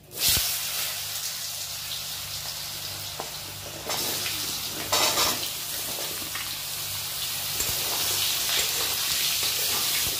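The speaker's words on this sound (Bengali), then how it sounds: "আলুটা আমি একটু লাল লাল করেই ভেজে নেব" Potatoes fry in oil with panch phoron spices in a pan, a continuous hissing sizzle that swells louder partway through and stays close and steady.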